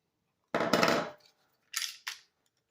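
A Smith & Wesson M&P pistol is handled to show it clear: one loud, close metallic clack of the slide, followed by two shorter, sharper clicks.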